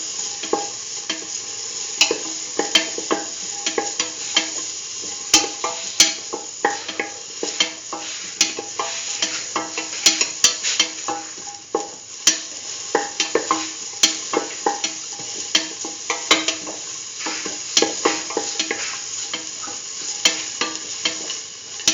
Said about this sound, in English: Thoroughly sauteing this.